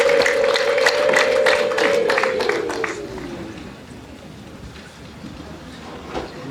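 Rwandan wedding guests ululate in a loud, sustained, high trilling cry that holds steady, then slides lower and fades after about three seconds over a background of crowd noise.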